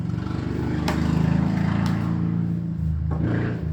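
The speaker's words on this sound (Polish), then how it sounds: "bardzo głośno przejechał tutaj motor" A loud engine roaring nearby, a motorcycle droning and revving steadily as it passes, with a couple of sharp clicks over the rumble.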